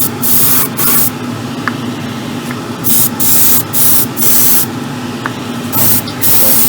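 Repeated short bursts of aerosol spray paint being applied to the bodywork of an Alpha Model Ferrari 812 Superfast scale model kit, close and loud hissing blasts with brief pauses between them, no talking.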